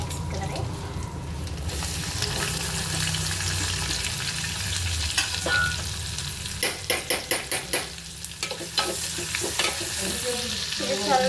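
Curry leaves and coarsely cut onion fry in a pan with a steady, close sizzle, broken midway by a quick run of stirring scrapes and taps.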